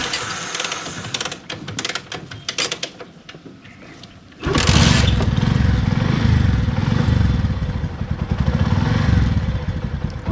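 A motorcycle engine cranks and catches after a stretch of clattering handling sounds, then runs loud, close and steady for the rest of the clip.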